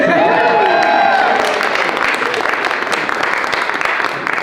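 A crowd cheers and applauds at a governor's summer reading bill signing, loud and sustained clapping with whoops over a brief voice, fading slightly toward the end.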